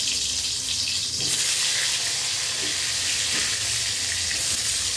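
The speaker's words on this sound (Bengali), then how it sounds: "এটাকে ভাজা চলেছে উল্টে পাল্টে এইভাবে।" Whole pointed gourds frying in a pan and being turned over, a loud, constant hissing sizzle with a few soft knocks as they roll.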